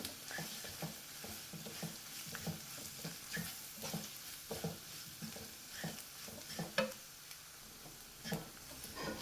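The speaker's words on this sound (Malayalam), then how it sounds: "ഇനി ഇതെല്ലാം കൂടെ ഒന്ന് ഇളക്കി മിക്സ് ചെയ്യാം" Spice powders frying in a pan for fish pickle are stirred over low flame: soft steady sizzling with rhythmic scraping strokes and light ticks of the spoon against the pan, close and quiet.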